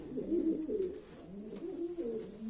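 Pigeons at a breeding loft coo in soft, repeated rolling phrases, several birds close by and overlapping steadily without pause.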